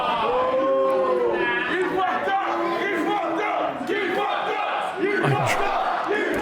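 Loud wrestling-show crowd reacting as a screwdriver is dropped in a three stages of hell match, a dense continuous roar of jeering voices and shouts filling the whole stretch.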